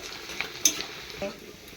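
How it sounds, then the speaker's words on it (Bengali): Onions frying in a pan for chicken biryani, sizzling steadily while being stirred, with a few sharp scrapes of the utensil against the pan, close and alone. "পেঁয়াজটা এখন ভাজা হচ্ছে, আর এর থেকেও লাল লাল করা লাগবে ভালোভাবে"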